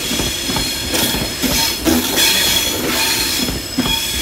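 A Northern electric multiple unit rolls toward Crewe station, wheels squealing in high sustained tones over rhythmic rail clatter and knocks, loud and close.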